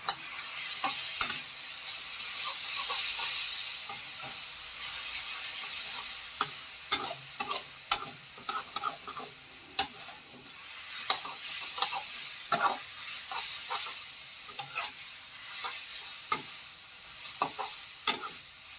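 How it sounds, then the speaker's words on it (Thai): Two packs of Mama instant noodles stir-fried with chili paste in a pan, a sizzling hiss broken by frequent sharp clacks and scrapes of a spatula, close and without talking. "เสร็จเรียบร้อยเราใส่เส้นมาม่าลงไปนะครับ อันนี้ผมใช้มาม่าสองห่อนะครับผม"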